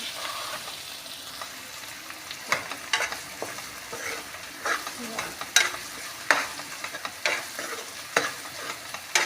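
Spices and kasuri methi sizzle in hot oil for a tadka in a pan, with steady frying crackle and repeated scraping stirs close by, no talk.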